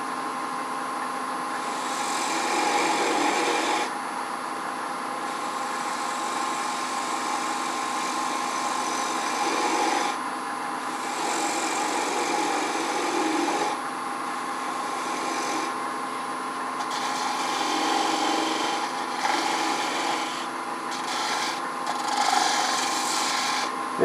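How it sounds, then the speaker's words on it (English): A small sharp turning tool takes a light cut on a wooden bowl spinning on a lathe, giving a steady scraping rasp that comes in short bursts and pauses over a constant motor whine, close and alone. "Small tool, light cut,"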